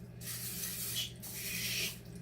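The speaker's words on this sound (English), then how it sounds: "So waffle iron's hot. I'm gonna give it a little shot of spray." Two short hissing bursts of cooking spray onto a hot waffle iron, close and fairly soft, with a low hum underneath.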